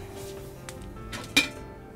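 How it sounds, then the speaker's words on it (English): A metal pot lid is picked up while apple sauce cooks, giving a single sharp clink near the end after a quiet stretch of faint kitchen rustling and a softer tap. "I'm gonna grab a lid for that"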